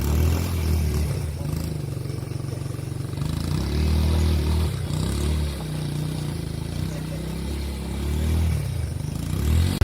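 A motorcycle labours over a road damaged by a landslide on a mountain slope. Its engine drones at a steady, close, mid-loud level with faint clatter, and voices are partly heard over it.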